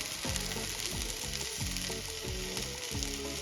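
Rava uttapam sizzles and fries on a hot oiled pan after being flipped, a steady close crackle with repeated low scraping strokes of a spatula, no voices.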